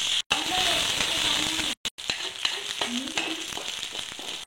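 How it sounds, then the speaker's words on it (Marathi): Chili-garlic paste sautés with onions in a pan, a dense steady sizzle with scraping stirring strokes, while a voice talks over it and brief gaps interrupt the sound. "मिरचीची पेस्ट, लसूण मिरचीची पेस्ट केलेली कांद्यामध्ये टाकून परतून घ्या।"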